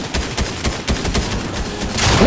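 Rapid bursts of gunfire from a Fortnite match, a loud fusillade of sharp repeated shots in quick succession, with no talk over it.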